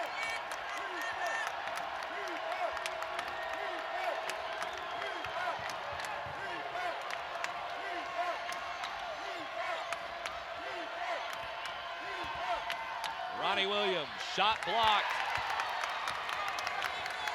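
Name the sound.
basketball crowd cheering at a Georgia vs Florida game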